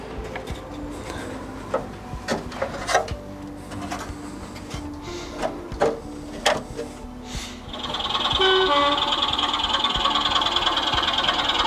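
Small model train wheels clatter and click over rail joints on a layout at a train show, in an irregular rhythm, then a steady whirring motor hum takes over, close by and fairly loud.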